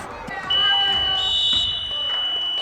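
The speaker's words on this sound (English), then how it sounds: "Buzzer. No good." A basketball game's end-of-half buzzer sounds as a loud, steady electronic tone lasting about two seconds, with a play-by-play announcer talking over it.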